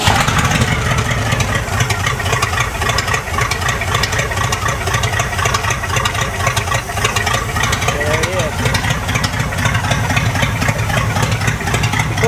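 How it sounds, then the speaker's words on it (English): A 1959 Cadillac V8 fitted with three two-barrel carburetors runs loud and steady for the whole stretch, a dense rumbling idle with a rough, uneven pulse close to the microphone. "let's see if this 59 Cadillac will start up"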